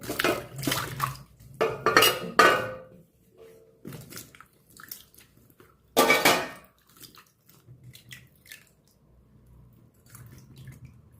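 Mushrooms are rinsed by hand in a vessel of water: close splashes, sloshes and light clinks come in irregular bursts, then softer drips and trickles trail off into quieter gaps.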